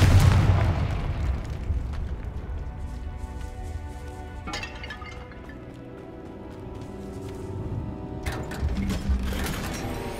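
Confringo fire spell exploding in Hogwarts Legacy: a loud burst right at the start, then further sharp blasts a few seconds apart over a low rumbling, mechanical game backdrop, with no talk.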